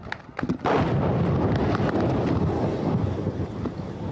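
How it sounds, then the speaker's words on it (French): A second explosion goes off near a crowd: a sudden, loud blast followed by a sustained, heavy roar and rumble, with wind buffeting the microphone. "une deuxième explosion survient."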